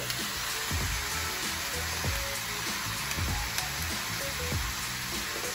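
Onions and vegetables for veggie fajitas sizzle steadily in a hot pan, a continuous broadband hiss with occasional low thumps and clatter of stirring, fairly close and without talk.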